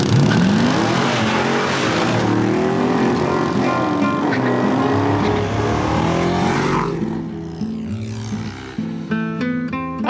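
Supercharged Jeep drag racing a Ford Ranchero: loud engines roaring hard off the line with a rising whine and tire squeal, then fading into the distance.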